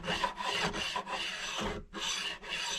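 Close, steady file strokes dress the sharp fret ends of an Epiphone acoustic guitar, a handful of long rasping passes with short pauses between them and no voices.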